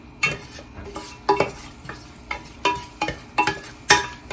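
Garlic frying in a pan for variety rice, with soft sizzling broken by a series of sharp scrapes and clinks as a spoon stirs the pan at an irregular pace, fairly quiet and close.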